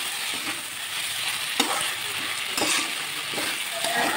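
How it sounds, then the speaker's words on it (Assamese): Raw onion fries for chili chicken, sizzling steadily in the pan while a utensil scrapes and stirs through it in a few distinct strokes, close and moderately loud. "এতিয়া এইখিনি অকণমান ভাজি ল'লে কাঁচা পিঁয়াজৰ চেণ্টটো ওলাব"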